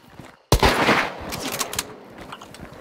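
A single loud, sharp gunshot rings out in the video game Hunt: Showdown, with a lingering echoing tail and a few fainter follow-up sounds.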